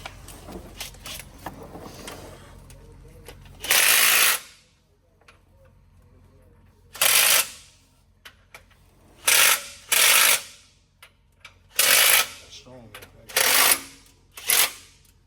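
A small impact wrench hammers on bolts during a Cummins ISX15 diesel engine rebuild, firing in loud short bursts separated by quiet pauses, with faint workshop clatter between.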